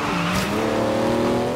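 Hard braking in Forza Horizon 3 with a Hot Wheels car, tires squealing in a steady rising whine over continuous engine drone, loud and close, with no talking.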